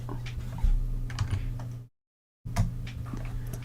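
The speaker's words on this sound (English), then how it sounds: "he can hear my mouse clicking" A computer mouse clicks during a live-streamed 2v2 gaming match, producing a faint, steady patter of small clicks that is cut off briefly by a moment of silence and then resumes, with no voices.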